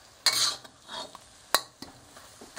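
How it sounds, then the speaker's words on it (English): Eggplant and broccoli being stirred in sauce in a pan, with a few short scraping strokes of a utensil and soft sizzling between them, close by with no talk. "Give everything a good stir and see if the sauce is as thick as you want."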